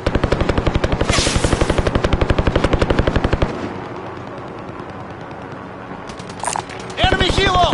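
Enemy helicopter in a shooter game, a rapid rhythmic rotor thump loud and close for about three seconds, then fading to a quieter rumble as a voice calls out near the end.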